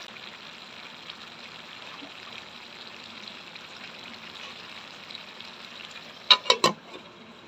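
Okra and dried kachki fish fry in a pan with a faint, steady, hissing sizzle throughout, ending in a few sharp, louder metallic clacks of a utensil near the close.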